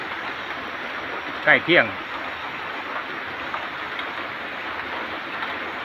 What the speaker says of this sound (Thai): เป็นภาพบรรยากาศ ฝนตกนะครับตอน